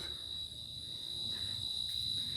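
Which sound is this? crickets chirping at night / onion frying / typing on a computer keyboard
crickets chirping at night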